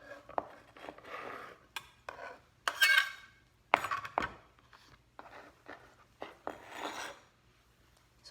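A knife cuts vegetables into thin julienne sticks on a board, giving a run of sharp, irregular close-up clicks and scrapes, with some clatter of utensils and no talking.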